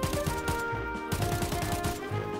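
Rapid automatic gunfire from a weapon in the PC shooter game Arena Breakout Infinite, two bursts of evenly spaced loud shots over a steady game background hum, with no talking.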